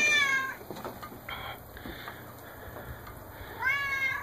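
Two clear cat meows, one at the start and one near the end, separated by quieter room sound in an indoor home setting where the cat is waiting to eat.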